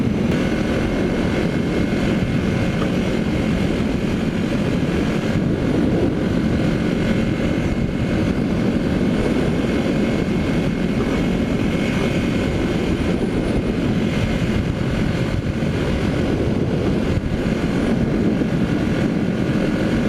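A 1981 Yamaha XS 400 motorcycle engine revs out steadily at speed during a commute, a continuous loud droning roar with wind noise running unbroken throughout.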